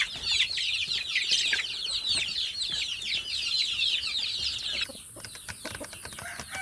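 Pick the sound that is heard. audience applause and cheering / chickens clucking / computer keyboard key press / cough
chickens clucking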